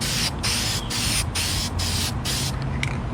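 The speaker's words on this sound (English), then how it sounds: "I actually just sprayed some of this clear coat stuff on here." Clear coat spray paint hisses from an aerosol can in a Honda Civic engine bay, a loud close rush of spray broken by several short gaps between passes.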